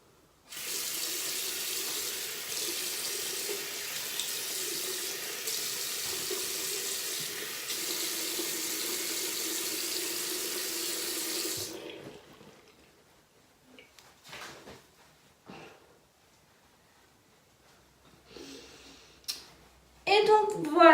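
Tap water runs steadily and fairly loudly from a faucet into a sink while a face mask is rinsed off, then stops, leaving faint splashes, drips and small handling noises.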